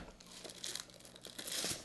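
Cardboard and plastic packaging of a Silent Hill 2 Pyramid Head Figma figure box torn open by hand: close, quiet bursts of crinkling and ripping in quick succession, with no talking.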